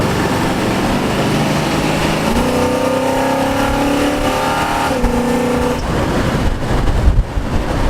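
A carbureted muscle car engine revs nearby, loud and throaty, with pitch climbing and falling over a constant engine rumble and rougher bursts toward the end.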